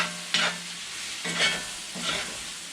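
Beef tongue cooking in a pan, with three stirring scrapes and sizzles at intervals over a low steady frying hiss, close and fairly quiet.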